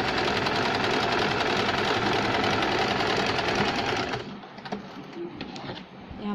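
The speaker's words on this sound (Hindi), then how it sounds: "सुई को नीचे रख के घुमा के लेंगे और सिलाई लगाएंगे नीचे तक।" A sewing machine runs steadily for about four seconds, stitching a saree fall with a fast, even clatter, then stops, leaving quieter handling noises.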